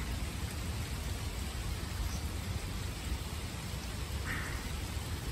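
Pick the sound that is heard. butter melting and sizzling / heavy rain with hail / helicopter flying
heavy rain with hail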